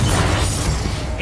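Confringo fire spell bursting in Hogwarts Legacy, a close, heavy boom with a rumbling low blast that fills the short moment, followed by a faint crackle.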